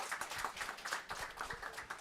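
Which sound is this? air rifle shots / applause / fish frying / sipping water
applause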